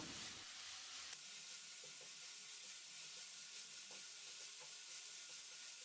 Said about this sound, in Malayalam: സവാള ഇതുപോലെ പൊടിയായിട്ട് വേണം അരിഞ്ഞെടുക്കാനായിട്ട് എന്നിട്ട് നല്ലപോലെ ഒന്ന് വഴറ്റിയെടുക്കണം